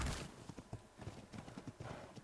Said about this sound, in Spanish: vamos en nuestro hiper mega caballo